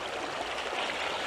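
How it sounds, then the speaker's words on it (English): Flowing water at the mouth of the Michipicoten River, a steady broadband rush of a stream heard continuously and fairly close, with no voices. "we're at the mouth of the Michipicoten River"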